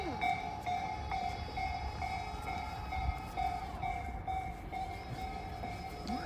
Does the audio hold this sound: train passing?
yes